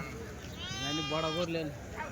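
A sheep bleats in a long wavering cry over a busy, noisy background with people talking nearby at the weekly livestock market in Kadiri.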